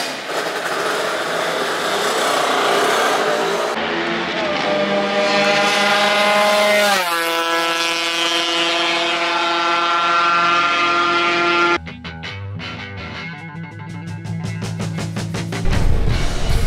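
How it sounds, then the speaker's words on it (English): A junior racer's 85cc two-stroke motorbike screams down the straight at a state title round, revving high through rising gear changes, loud and close, then passing away with more engine noise trailing behind. "This young gun had a nice 85cc two-stroke. Sounded sweet down the straight."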